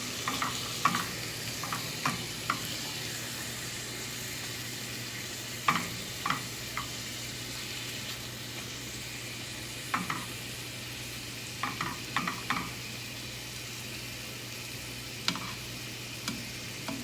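A continuous, steady sizzle of chicken liver frying in a pan with balsamic vinegar, with occasional light clicks and scrapes of stirring, no talking.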